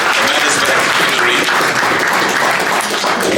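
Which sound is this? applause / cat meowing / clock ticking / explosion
applause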